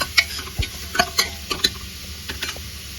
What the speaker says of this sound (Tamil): இந்த வெங்காயம் நல்லா செவந்து வரட்டும்.